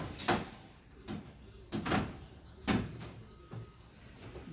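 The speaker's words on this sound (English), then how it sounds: "The side doors, just pull it out and up." Side door panels pulled out and up off a Sterrad 100S sterilizer, giving several sharp plastic-and-metal clacks and thuds spaced about a second apart, close and fairly loud in a quiet room.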